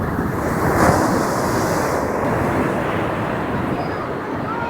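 Atlantic surf breaks on the shore at Île de Ré, a loud, continuous roar of waves with wind buffeting the microphone throughout.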